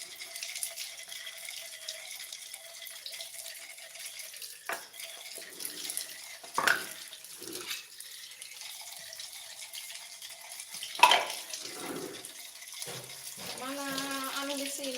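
Running tap water while washing things at a kitchen sink during home cooking of boiled chicken, a faint steady stream with occasional clatters and splashes, under soft intermittent talk.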